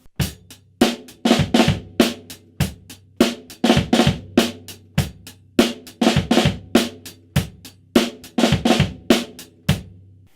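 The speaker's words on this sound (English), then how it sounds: "It's also possible to play 2 fat flams in a groove," Drum kit groove with two fat flams per bar, on the 'and' of two and the 'e' of three, dense rapid hits in a steady repeating pattern, close and loud, with no talking.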